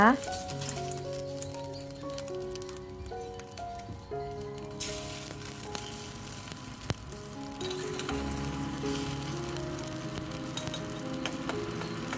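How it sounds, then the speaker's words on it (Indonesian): An egg omelette fries in hot oil, giving a steady crackling sizzle beneath soft background music, close and moderately quiet throughout. "Udah menyiapkan minyak, kemudian saya dadar telurnya ya."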